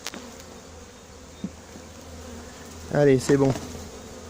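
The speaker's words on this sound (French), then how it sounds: "C'est un bel essaim." A swarm of honeybees buzzes softly in the background during hiving, a faint steady hum with a few taps, and someone speaks briefly near the end.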